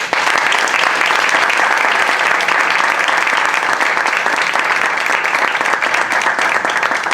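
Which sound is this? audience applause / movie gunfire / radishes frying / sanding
audience applause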